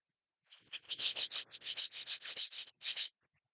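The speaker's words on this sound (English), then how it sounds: "run that on some sandpaper or pile" A small part for a scale model marker light is rubbed back and forth on sandpaper. About fifteen quick, rasping strokes come in a steady rhythm, close and clear with no talking.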